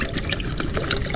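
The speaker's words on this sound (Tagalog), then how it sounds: "lagdagan natin ng tubig" Water is poured into a cooking pot of chili dish, a steady liquid trickle and splash lasting about a second, close by with no talk.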